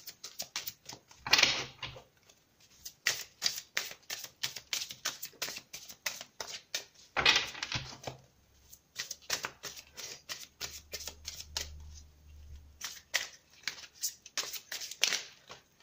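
Oracle cards shuffled and drawn for a three-card reading, giving repeated dry riffling and flicking bursts with short pauses and a few soft thumps, close and fairly quiet, with no voices.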